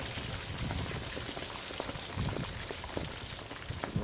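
Tripe sizzles and crackles steadily in a hot frying pan, a dense close-up hiss with scattered pops, fairly quiet throughout.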